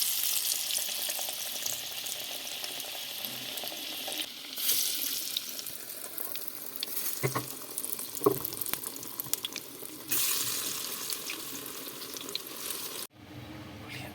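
Besan-coated colocasia (arbi) leaf pieces deep-frying in hot oil, a continuous hissing sizzle that swells as pieces drop in, with occasional clinks and stirring and a brief break near the end.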